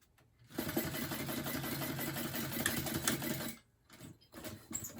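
A sewing machine top stitches along the edge of a purse, a fast even whirring run of about three seconds, then a pause and a shorter burst of stitching.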